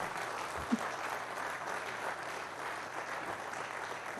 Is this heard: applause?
yes